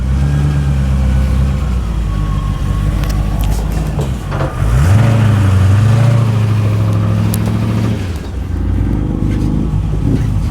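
An MGB GT V8 driving along the road, its engine note steady and close with a brief shift in pitch midway, continuous road and engine noise throughout.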